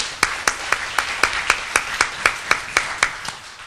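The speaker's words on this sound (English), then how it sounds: "yes, let's give that an applause." Applause from a church gathering of listeners: a steady run of sharp, evenly spaced claps, about a dozen in a row at a regular beat, close and fairly loud with no talking.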